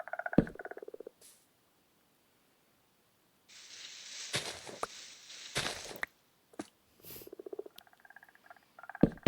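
Small croaking and chirping frog calls from a video game come in short bursts with pauses, mixed with brief clicks and taps, fairly quiet and without speech.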